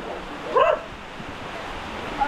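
A single short dog bark or yelp rings out briefly, then fades into quiet outdoor background.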